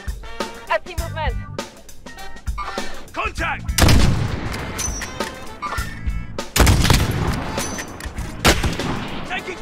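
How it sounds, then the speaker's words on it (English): Video game gunfire from Call of Duty Warzone 2 crackles in rapid bursts and single heavy shots with booming echoes, some close and loud, some more distant, with brief voices mixed in. "Contact! Taking fire!"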